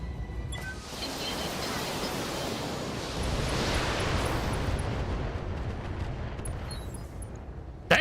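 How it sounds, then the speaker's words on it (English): Mech missile barrage in the BTA Universe video game: a dense, continuous roar of launches and blasts fills the whole stretch, swelling slightly midway and ending in a sharp burst. "I'm just gonna fire the missiles"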